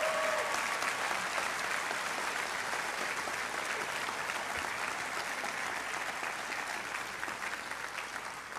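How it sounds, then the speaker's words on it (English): A commencement crowd at Westlake Academy applauds its educators, a dense, steady wash of clapping from many hands that carries on for several seconds and eases off slightly near the end. "if we can give a round of applause to these educators here"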